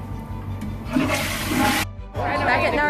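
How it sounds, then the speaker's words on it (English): A toilet flushes with a loud rushing whoosh of water that cuts off abruptly, then a second surge of draining water follows, close by in a small space. "Oh, that's the flush sound."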